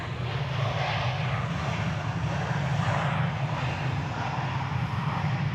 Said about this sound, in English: This is Virgin America flight 270. It's coming in from Ontario. It's a 737.